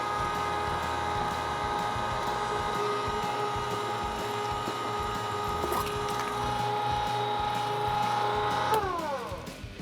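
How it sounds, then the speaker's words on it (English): A meat grinder fitted with a 3/8 inch plate grinds chorizo sausage meat in a steady, loud, continuous motor whine with a dense mechanical hum, easing off near the end. "So I've got our grinder here set up with our 3/8 inch plate for our first grind."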